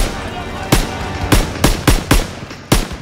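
Six sharp, loud gunshots crack in an uneven series in Call of Duty WW2, close and punchy against a low background rumble of battle.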